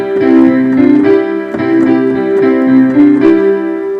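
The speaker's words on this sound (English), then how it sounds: "Now say for instance that we have a basic piano piece that sounds like this." A simple piano piece plays with both hands in first position, a steady left-hand part under a right-hand melody, evenly paced notes, loud and close with no talking.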